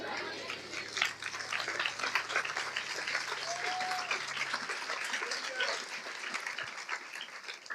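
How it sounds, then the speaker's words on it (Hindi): A congregation claps sparsely and unevenly during a Hindi church sermon, a thin patter of hands that goes on throughout beneath a loud preacher's voice and a faint background hum. "अभी देखो तालियां भी ठीक से नहीं बज रही"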